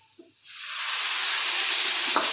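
Yogurt poured into a pan of hot fried tempering sets off a hiss that swells within half a second into a loud, sustained sizzle and steam.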